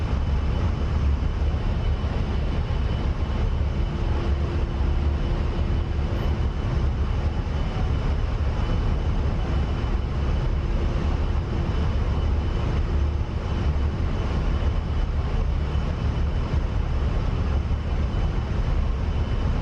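A steady, loud roar of an A-10A jet climbing after takeoff in a DCS flight simulator, a constant broadband engine drone with a faint tonal whine and no pauses.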